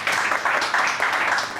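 Studio audience applause for a singer on a 14th August television morning show, a full burst of clapping from many hands, loud and fairly close, swelling in uneven waves.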